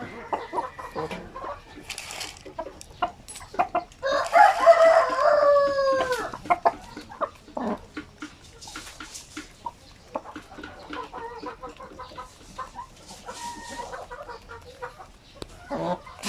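Native and upgraded hens cluck around a backyard flock, with repeated short clucks and a louder drawn-out call in the middle, all heard close and scattered over the whole stretch.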